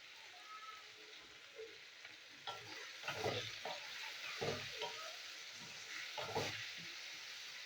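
Spices being stirred in a hot pan for a Bengali posto dish, salt and turmeric just added, with a steady frying sizzle and soft scraping stir strokes growing busier midway, no talk.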